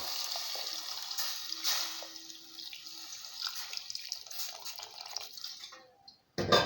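Water runs steadily from a tap into a pot for vegetable rice stock, a continuous splashing pour with faint drips, ending in a brief clatter.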